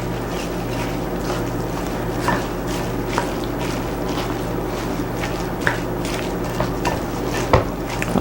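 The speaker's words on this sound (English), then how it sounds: "And my egg replacer. All right, so I'm just gonna mix all this up" Gooey vegan neat loaf mixture with egg replacer is stirred in a bowl, giving soft squelching and occasional light clinks against the dish over a steady background hum, with no talking.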